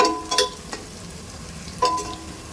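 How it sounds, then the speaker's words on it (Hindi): Onions fry in a pan while being cooked for dhaba-style mutton bhuna, giving a steady low sizzle with a few scraping stirs of the spatula near the start and one more partway through. "यहाँ पे देखें प्याज को आपको बिल्कुल भी छोड़ नहीं देना है, क्योंकि ये जलना नहीं चाहिए।"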